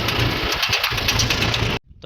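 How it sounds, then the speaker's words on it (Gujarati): A Mahindra 475 tractor engine runs steadily on a village road with a loud, continuous mid-pitched chug. The sound cuts off abruptly near the end and then resumes more quietly. "અત્યારે આપણે ટ્રેક્ટર લઈ અને નીકળી ગયા છીએ ખેડવા માટે."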